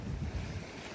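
Water swirling and flowing back in a stream by the sea is heard as a low, rushing wash with windy buffeting, fairly faint and continuous throughout.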